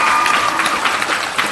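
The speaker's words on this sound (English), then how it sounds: "And I want to ask you for applause" Audience applause at a startup accelerator demo day graduation talkshow, a short burst of dense clapping from a crowd, loud and continuous, with a faint voice underneath.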